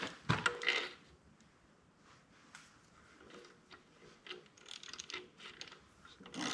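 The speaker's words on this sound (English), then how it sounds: "I'm going to take them out using a stud extractor." A stud extractor working studs out of a 1928 Allis Chalmers 20-35 tractor engine during teardown, a few close metallic clicks and ratcheting scrapes, faint and intermittent, with quiet pauses between, no talking.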